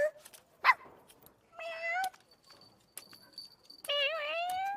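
A cat meows in a few drawn-out, wavering cries separated by quiet gaps, close and fairly loud, with small bumps and rustles between the calls.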